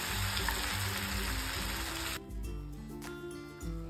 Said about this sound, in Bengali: এই তেলের মধ্যে মাংসটিকে আরও 2 থেকে 3 মিনিট রান্না করে নিচ্ছি।